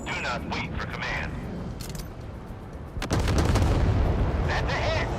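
Warship guns firing in the naval combat video game Force of Warships, loud booming salvos and heavy rumbling that swell sharply partway through, with faint in-game voices underneath.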